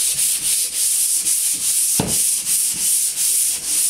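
Hand sanding small divots in a house surface: steady back-and-forth rubbing strokes, close and even, with a brief sharper scrape partway through.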